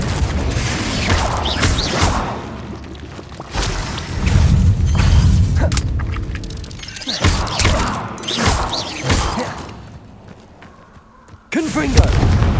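Confringo blasting-spell explosions in Hogwarts Legacy, repeated loud booms and crashing impacts over several seconds amid combat noise, with a voice speaking between blasts.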